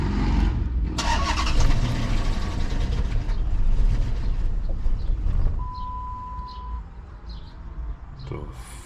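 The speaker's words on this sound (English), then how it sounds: "Start the engine one time." A Hemi V8 car engine that has dropped a valve seat cranks and starts, rumbling loud and close throughout, with a rough, uneven note and a steady whine partway through.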